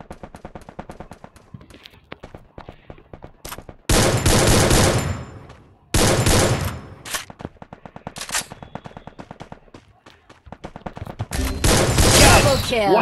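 Gunfire in the Free Fire battle-royale game: bursts of rapid automatic shots in several loud clusters, separated by quieter stretches of single clicks and shots.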